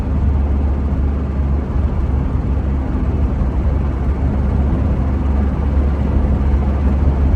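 A 1939 Citroen Traction Avant Light 12 driving along a road, its engine a steady low rumble with road noise, heard from inside the car, loud and unbroken with no talk.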